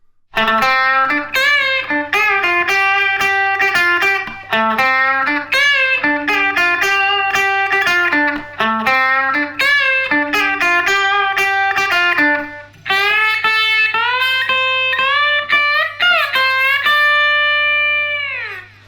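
Electric guitar solo from a song, a bright, distorted lead of quick melodic runs and bends, loud and continuous, ending on sustained notes with a steady low hum underneath.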